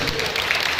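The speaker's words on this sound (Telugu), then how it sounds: "చప్పట్లు కొట్టాను." Congregation clapping during a Telugu Sunday worship service at a CSI church, a dense steady wash of hands filling the whole short moment at even loudness.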